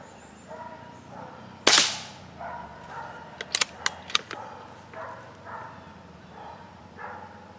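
A Benjamin air rifle fires offhand outdoors, one sharp close crack followed a couple of seconds later by a quick cluster of smaller sharp snaps, then quiet background.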